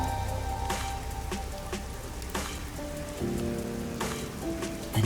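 Rain patters steadily over the neon-lit streets of the busy Kamasaki District in the video game Rain Code, a soft continuous wash under sustained tonal background music.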